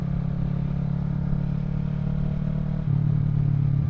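Kawasaki Z650 fitted with a Yoshimura Alpha exhaust, heard while riding: a steady low engine drone with strong rumbling tone, constant and close, stepping up slightly in pitch and loudness near the end.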